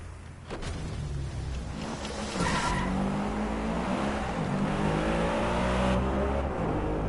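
A car in the DriveClub racing video game: an engine drone that rises as it accelerates, with tires squealing and skidding through a turn, loud and continuous.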